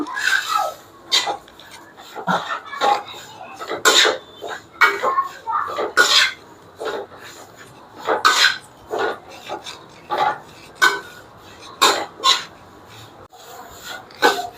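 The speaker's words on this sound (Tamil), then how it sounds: "முருங்கைக்கீரை இப்ப நல்லா வதக்கிப்போம்" Sun-dried drumstick (moringa) leaves are stirred and sautéed in a pan, making close, dry scraping and rustling strokes that repeat in quick, uneven bursts.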